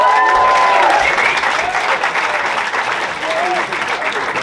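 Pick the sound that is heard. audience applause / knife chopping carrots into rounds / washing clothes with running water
audience applause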